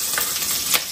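Greens being tempered and fried in a hot pan, a steady close sizzle with two brief louder bursts of spitting oil, no talk.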